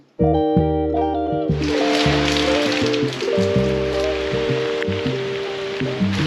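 Steady rain patters and hisses during a wet border crossing into France, running continuously but partly masked by prominent music playing over it.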